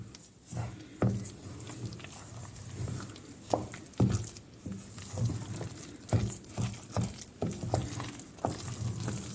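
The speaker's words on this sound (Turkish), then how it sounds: "Hemen üzerine 2 su bardağı ince bulgur ilave ediyoruz. güzelce karıştırıyorum." Close, soft scraping and gentle stirring of fine bulgur in a pot, with irregular taps of a spoon and faint sizzling, no talking.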